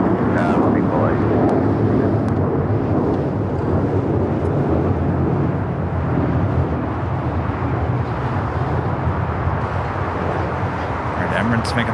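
An Emirates airliner taxis at Los Angeles International Airport, its engines giving a steady, broad rumble with wind noise throughout the whole stretch, no distinct peaks, heard from a distance outdoors.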